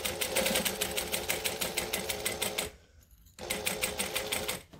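Sewing machine stitching in fast, even rapid-fire bursts, close and steady, stopping briefly for a short pause before the needle resumes its quick rhythmic clatter.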